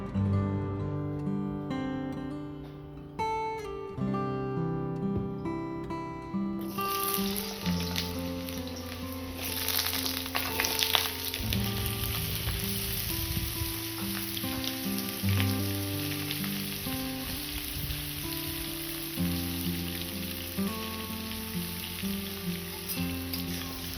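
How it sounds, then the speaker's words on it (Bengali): Potatoes seasoned with salt and turmeric fry in oil for Bengali potol chingri, a continuous rain-like sizzle running steadily beneath background music. "এই পটল চিংড়ির জন্য আলুগুলোকে প্রথম ভেজে নেবো নুন হলুদ দিয়ে"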